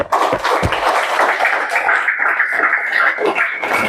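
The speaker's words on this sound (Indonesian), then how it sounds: "Jadi tepuk tangan dulu untuk temannya." Classroom applause for a student after answering an algebra question: a burst of many hands clapping, dense and steady for several seconds, close and fairly loud with some shuffling.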